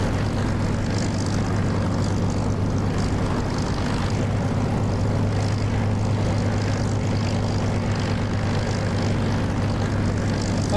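Several Spitfire piston engines in the DCS flight simulator drone steadily and loudly throughout, a constant propeller hum with no break and no voices.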